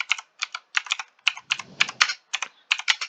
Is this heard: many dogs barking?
no